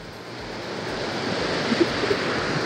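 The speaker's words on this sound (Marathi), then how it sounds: "दुसरी साईड बघितला तर एकदम धबधबा टाईप झाले." Water at Barki waterfall in Kolhapur rushes in a continuous broad roar, steady and moderately distant, with no voices.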